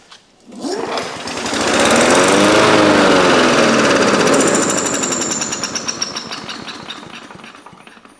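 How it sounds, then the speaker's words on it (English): Three long-dormant lawn mowers, revived with starting fluid, with one engine cranking over and catching into a loud, steady running roar that holds several seconds before easing slightly, with no talking. "it appears that we have all three mowers at least starting"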